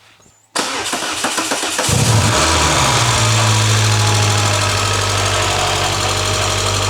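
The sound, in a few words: old hot hatch car engine running loudly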